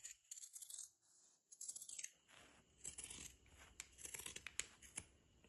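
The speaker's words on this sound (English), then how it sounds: "I'll be using this zigzag scissors to cut." Zigzag scissors snip steadily through fabric at close range, a series of crisp cuts with brief pauses between strokes, quiet and without talk.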